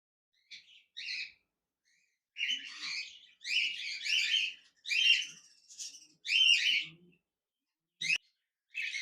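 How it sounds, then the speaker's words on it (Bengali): A large pair of lutino red-eye cockatiels calling in a cage: close, shrill, raspy chirps in short repeated bursts with brief silent gaps, and no talking. "এখানে দেখতে পাচ্ছেন এক জোড়া লুটিনো রেড আই কোকাটেল পাখি রয়েছে, বিগ সাইজের"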